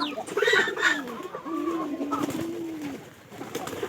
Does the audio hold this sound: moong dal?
no